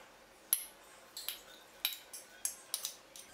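Hung curd and chopped vegetables stirred together in a kitchen bowl: a quiet series of about eight sharp spoon clinks and scrapes against the bowl, irregular and close, with no talking.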